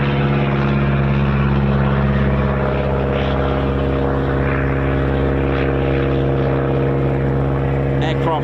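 Propeller training aircraft flying at RAF Coningsby, used to prepare pilots for the Battle of Britain Memorial Flight; a steady, loud droning engine hum holds throughout with strong low harmonics and no break.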